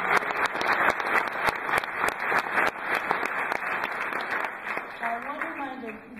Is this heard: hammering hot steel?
no